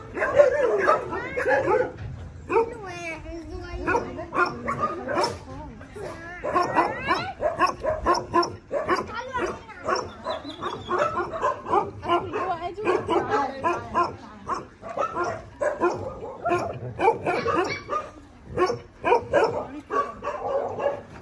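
Many dogs at an Egyptian shelter in Al-Mariouteya, barking, yipping and whimpering in overlapping bursts close by, with a person talking in between.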